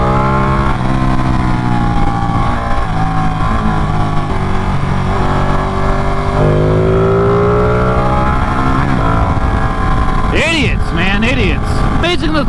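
A Ducati Panigale motorcycle in race mode accelerates loud and close, its engine pitch climbing steadily through the gears under wind roar, with a sharp rev near the end and a voice speaking over it.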